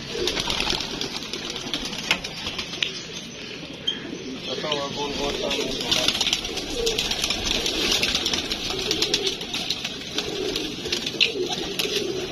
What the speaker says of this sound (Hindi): हमने मोर लगा कबूतर पकड़ा था।